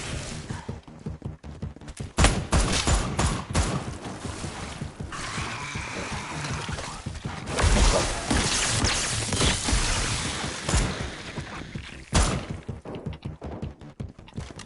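Shotgun blasts ring out in Resident Evil Re:Verse gameplay, loud booming bursts scattered among dense, chaotic game noise, with several sharp shots at the start and further heavy blasts later on.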